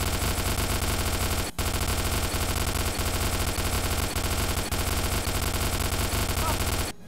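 Gunfire from the video game Starship Troopers: dense, continuous automatic fire against a swarm, loud and unbroken apart from one brief gap early on.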